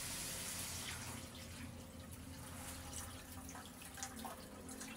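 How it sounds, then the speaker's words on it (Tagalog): Chicken stock, broth from boiling pork and chicken, pours steadily into a cooking pot for pancit bihon, a continuous close splashing stream that eases slightly partway through. "Ilagay na po natin ang ating stock or yung kaldo."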